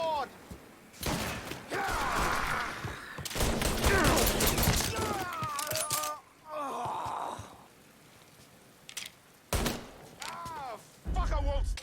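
Gunfire in the Mafia 3 video game, repeated bursts of shooting in several loud clusters with gaps between them, mixed with groans, gasps and shouted combat voices from the game.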